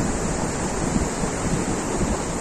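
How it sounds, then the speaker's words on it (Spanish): Steady roar of sea waves and breeze on the beach at Playa Las Glorias in Guasave, Sinaloa, a continuous dense wash of surf and wind noise with no pauses. "Aquí estamos disfrutando del mar, de la brisa marina"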